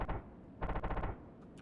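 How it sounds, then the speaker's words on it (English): Fighter plane gun firing in the SimplePlanes flight game, heard as a brief opening burst followed by a rapid rattling volley of roughly eight shots, then a quieter tail. "I'll use my gun."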